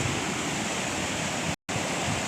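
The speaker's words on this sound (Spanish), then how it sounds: "el ruido del agua está bien fuerte" Loud, steady rushing water from storm flooding in Monte Patria, Coquimbo region, a dense roar filling the whole clip with one brief dropout near the end.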